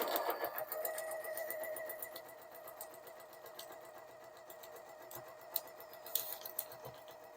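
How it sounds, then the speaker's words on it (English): A sewing machine stitches along a folded line, catching yarn strands for rag-doll hair, with a steady, moderately faint hum and a few soft clicks near the end, with no voices. "I'm sewing right on my folded line, sort of keeping everything flat with my hands."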